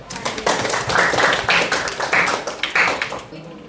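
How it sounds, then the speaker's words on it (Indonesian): A class of students claps hands together in a classroom, a run of rhythmic, close group claps in bursts that stop abruptly near the end. "Oke, kasih tepuk tangan"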